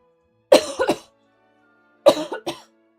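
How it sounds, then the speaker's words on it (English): Two separate bursts of coughing, each made of three quick harsh coughs, close to the mic with silence between them. "It hurts my throat to cough like that"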